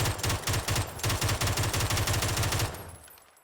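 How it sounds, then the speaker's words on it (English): A rapid-firing gun in a video game lets off steady bursts of closely spaced shots, loud and close, holding an even rhythm for about two and a half seconds before the sound fades out. "It's like whenever the second bullet fires is when you pull a trigger again."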